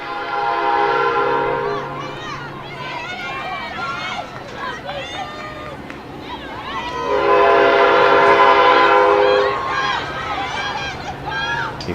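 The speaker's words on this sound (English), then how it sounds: "You're hearing that train horn? We got a Metro coming across while a freight train is on the side." A Metra commuter train's long sustained horn blares twice over rumbling rail noise beside a women's lacrosse game, a freight train standing on a side track, loud and close, with a voice talking over it.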